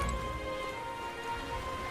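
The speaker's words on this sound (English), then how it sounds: "The rain remains as unpleasant and oppressive as ever" Rain falling in the video game Metaphor: ReFantazio, a faint, steady wash of drizzle under a soft, even background tone with no voices.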